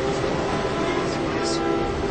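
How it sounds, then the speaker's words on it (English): Busy train station in downtown Cairo, with a continuous rail rumble and a dense crowd and traffic wash, steady and fairly loud, with voices talking underneath. "This is a train station."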